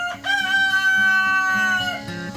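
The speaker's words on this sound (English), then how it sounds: "Give me a big crow" Rooster Rico crows one long, loud, drawn-out cock-a-doodle-doo up close, filling the whole moment with a bright harmonic call.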